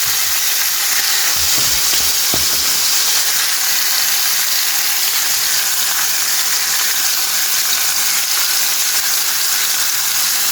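Pomfret fish frying in green masala over a slow-to-medium gas flame gives a steady, continuous sizzle and hiss that runs unbroken throughout, with a few soft low knocks near the start.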